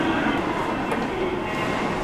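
A train moves through a station in Aomori, Japan, giving off a loud, steady rumble and rolling noise that fills the whole stretch with little variation.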